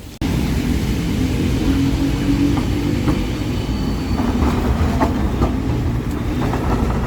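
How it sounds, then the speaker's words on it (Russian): A tram rolls along a street in Kaliningrad, a steady low rumble with faint rail clicks and wheel noise holding at an even, fairly loud level throughout, with no talk over it. "Такое оживленное у нас трамвайное движение."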